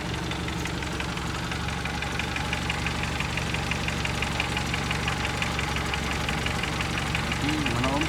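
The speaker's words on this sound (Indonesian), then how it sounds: "bisa kedengaran suara mesinnya. Ini halus ya kedengaran" A car engine idles smoothly and steadily close by, its low even hum continuous throughout, with a person talking over it.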